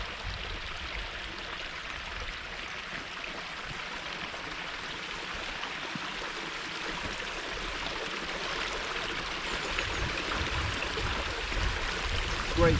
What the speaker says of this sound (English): great flow coming over these rocks